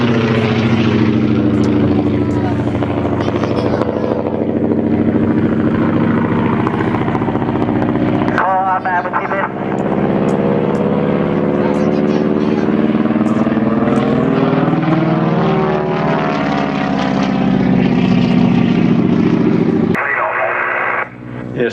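A Harvard propeller aircraft with a carburetted engine roars loudly through an aerobatic display at Point Cook. Its droning pitch sweeps up and down as it passes, cutting out abruptly near the end, with public-address commentary mixed in.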